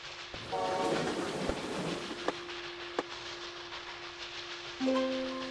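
Trains running on a shared rail network in the video game Kubifaktorium, with a steady rumbling run, a sustained horn-like tone starting partway, sharp clicks, and a second tone near the end, moderately loud and with no talk.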